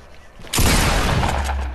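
A shotgun blast in a video game lands as one sharp, loud burst followed by a dense, noisy roar that sustains to the end, with faint talk and game sounds before it.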